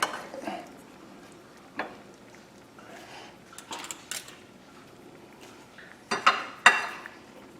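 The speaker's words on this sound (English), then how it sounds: "Today I'm using a scoop for the rice, just because I like the way it looks on the plate." Rice scooped onto a plate in a home kitchen, heard as a few soft scraping and clinking utensil-on-dish sounds with brief louder knocks near the end, fairly close, with no talking.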